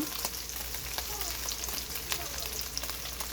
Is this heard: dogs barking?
no